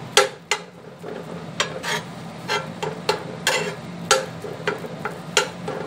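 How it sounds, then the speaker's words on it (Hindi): Spoon knocking and scraping through matar chaat ingredients in a pan, a rhythmic series of sharp metallic clinks about twice a second over a soft scraping bed, close and clear. "इन सभी चीज़ों को हम अच्छे से ऐसे इस तरीके से मिक्स कर देंगे"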